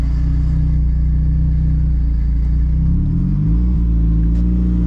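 A built Nissan S15's engine rumbles steadily up close, its pitch rising and shifting as it revs, with the faint rising whine of the turbo spooling over the low drone.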